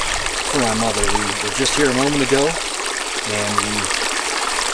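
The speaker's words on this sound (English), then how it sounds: "There's a bubbling brook" Bubbling brook along the Heart Lake loop in Yellowstone, a steady broad rush of flowing water heard close by under a person talking.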